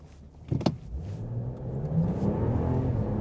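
A 2025 Ram 1500 Warlock truck accelerating hard from 0 to 60, a rising engine roar that builds steadily after a couple of sharp knocks, heard from inside the cab.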